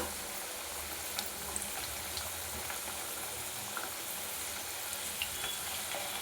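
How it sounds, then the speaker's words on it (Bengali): Continuous crackling sizzle of potatoes frying in mustard oil, fairly quiet and steady, with occasional small pops and stirring. "এবার আলুগুলো ভেজে নিচ্ছি"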